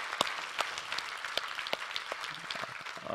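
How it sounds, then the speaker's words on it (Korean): A church congregation applauds during a worship service, a steady wash of many hands clapping with a few sharper nearby claps, continuing for a few seconds at moderate level. "우리 하나님께 감사와 영광의 박수를 드리겠습니다"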